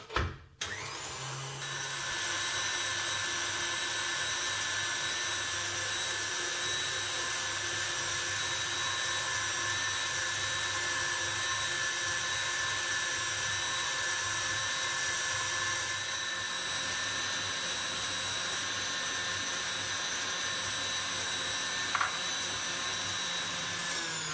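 An electric whisk running at high speed beats three eggs with a little brown sugar for a chocolate bar cake, giving a steady, close motor whine that holds unbroken for about twenty seconds.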